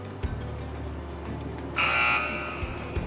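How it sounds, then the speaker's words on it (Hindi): An electronic game show buzzer on a Ramzan quiz show sounds once, a bright, loud, sustained tone lasting under half a second, standing out from a low hum and a few soft thumps. "मैं बजर्स एनेबल कर रहा हूँ।"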